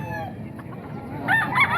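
A rooster crows once among chickens kept for sale, the call rising near and clear near the end over low background murmur and faint clucking.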